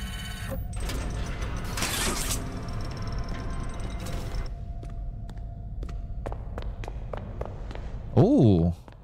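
A door opens in the horror video game Poppy Playtime with a loud mechanical rush and clatter, then a string of sharp clicks and clunks, while a person talks and gives a brief vocal exclamation near the end.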